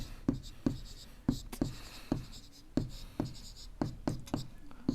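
A teacher writes on a board during a class on rational numbers, making a close series of sharp, evenly spaced taps and scratches with a soft voice murmuring faintly underneath.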